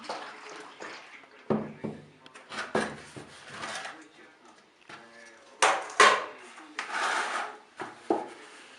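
Water-based acrylic emulsion wall paint is stirred in a container, making irregular wet rubbing and sloshing strokes that come in bursts, while a voice talks intermittently between them.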